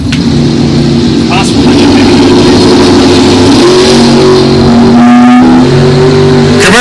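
A 1966 Chevelle and a Camaro drag race at a bracket event, their engines roaring loud and close throughout, with revving rises and gear changes and a final surge as a car passes by, under a track announcer's voice.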